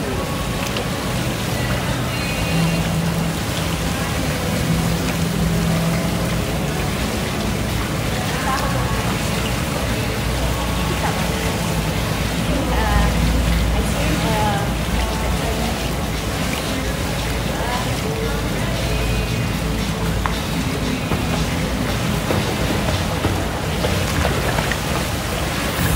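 Swimming in a hotel pool in Bangkok, with constant close water splashing and churning that blends into a dense, wind-like roar, and a voice occasionally breaking through.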